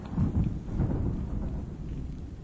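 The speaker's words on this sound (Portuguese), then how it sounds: "o barulho da chuva tá forte" Heavy rain pouring down, a dense low rumbling roar with a thunder-like swell near the start, steady and loud throughout without any talking.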